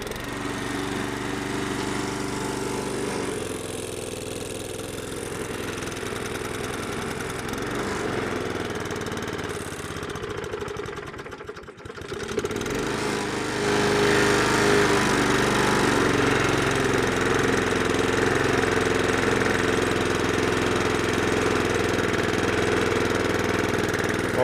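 A Best Green lawn mower's small engine drones steadily at idle, cuts out briefly around the middle, then catches and runs louder and rougher, a close, constant mechanical hum with no talk.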